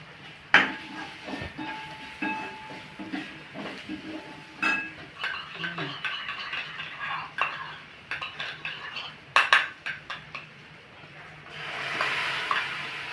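Pasta is stirred in a pan with mayonnaise sauce, a spoon scraping and clinking against the metal in uneven strokes over a light sizzle, close by and moderately loud.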